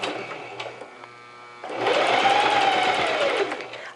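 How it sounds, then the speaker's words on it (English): A sewing machine run with a foot pedal stitching a hem, a quiet idle hum that gives way to a loud steady whir as the motor speeds up, then eases slightly at the end. "So I'll turn my machine on, and let's see if I can use the foot pedal and finish this stitch."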